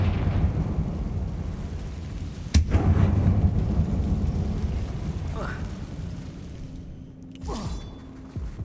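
A Confringo fire spell blast in Hogwarts Legacy, set in a closed mine, bursts with a sharp crack followed by a rumbling roar, with talk around it.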